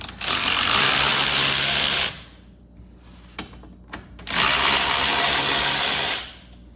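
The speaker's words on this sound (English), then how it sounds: "I have a T20 Torx bit, and I'm going to be taking these 2 bolts off on the front" A power tool fitted with a T20 Torx bit spins out bolts on the front intake piece of a Mk8 VW GTI. It gives two loud, close whirring bursts of about two seconds each, with a quiet pause and faint clicks between them.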